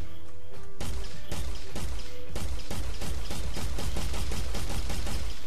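Rapid weapon fire from a Roadhog prototype built in Unreal Engine 4, a dense run of loud repeated shots that speeds into a steady stream of blasts, close and continuous with no voices.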